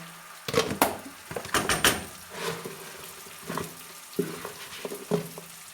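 A spoonful of tomato paste goes into a pan while making kısır, giving soft sizzling with several sharp spoon scrapes and clinks against the pan, spaced irregularly and fairly close.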